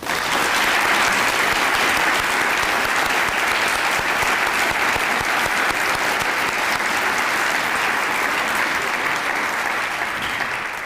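Loud, dense audience applause for educators at a Teacher of the Year ceremony, continuous and even for the whole stretch, close and full, tapering only slightly at the end.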